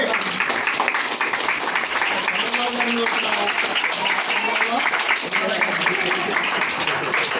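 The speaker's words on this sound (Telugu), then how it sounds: "ఒక మన ఎవరు మండల విద్యాశాఖ అధికారికి చప్పట్లు కొట్టండి" A school gathering's audience applauds the mandal education officer with dense, steady clapping that lasts throughout, while voices carry on over it.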